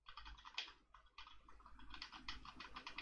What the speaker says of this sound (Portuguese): Teclado novo.